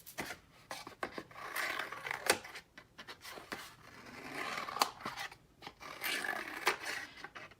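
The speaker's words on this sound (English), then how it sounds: "I'm gonna cut a bunch of these little football shapes" Scissors snipping through painted watercolor paper to cut small leaf shapes for a collage: a run of close, crisp cutting strokes with irregular pauses, quiet and alone, without any voice.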